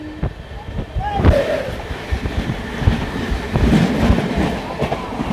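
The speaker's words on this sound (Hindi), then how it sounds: "नई दिल्ली से हावड़ा को जाने वाली पूर्वा एक्सप्रेस फ्लाइट 130।" The Purva Express from New Delhi to Howrah rushing past at speed, a loud, close roar of wheels and rattling coaches with clickety-clack beats and a brief high horn-like tone, with no one talking.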